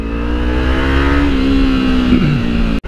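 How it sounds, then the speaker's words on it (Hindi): A KTM Duke, a white Yamaha R15 and a Kawasaki Ninja ride through city traffic, their engines droning loud and close with a rising and falling pitch as they accelerate, ending in a sudden brief dropout. "ड्यूक और are one five white colour की वहाँ चल रही है तुम्हारे भाई की निंजा पीछे चल रही है"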